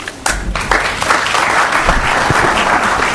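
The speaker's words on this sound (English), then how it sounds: "Let's give them another round of applause, please." Audience applause fills a board of education meeting, a dense, steady clapping that starts after a brief quieter moment and carries on at full strength to the end, close and loud.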